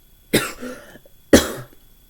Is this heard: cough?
yes